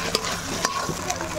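Garlic and ginger paste with cumin paste, tomato, turmeric and chilli powder frying in a pan, a steady close sizzle broken by a few sharp spoon scrapes, with no talking.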